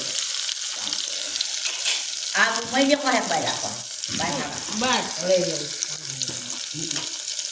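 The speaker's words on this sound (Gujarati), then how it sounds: "આવી ગયા છે ટમાટા અને લીલા મરચા અંદર સરસ મજાના મિક્સ કરશું" Tomatoes and green chillies fry in a pan and are stirred together, a steady sizzle with bursts of scraping and clattering stirring throughout.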